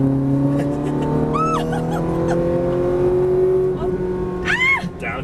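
A Ferrari F430 V8 powering hard out of a corner on a racetrack, a loud close engine note climbing steadily in pitch under full throttle, with brief chirps of tire squeal near the start and end and no talk over it.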